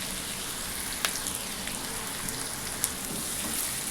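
Finely chopped onion frying in a pan with green chilli for street-style bhurji, a continuous crackling sizzle with a couple of sharper pops.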